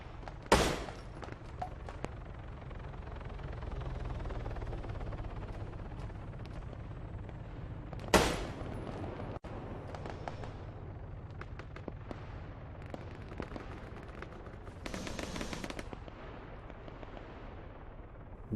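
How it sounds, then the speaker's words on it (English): Arma 3 gunfire coming from a distant tower: a steady low battlefield rumble punctuated by two sharp, loud cracks and scattered fainter shots, with no speech. "I can see some people shooting from Tower 2 again"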